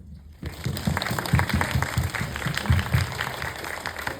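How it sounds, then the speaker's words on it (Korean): Audience applause at the Bucheon International Film Festival during a talk with an actress and a director, sustained clapping from a crowd that rises after a brief quiet start and stays fairly full throughout. "박수 한번"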